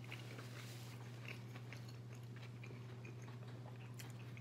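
Homemade Mexican pizza, a Taco Bell copycat with extra cheese, is bitten and chewed close up, with soft repeated crunchy bites and chewing over a low steady hum.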